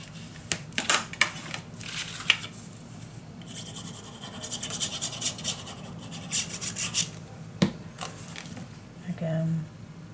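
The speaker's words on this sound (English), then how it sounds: "burnish it down." Paper is burnished down onto a handmade box mini album, giving a string of dry rubbing and scraping strokes with sharp taps between them, close and fairly quiet.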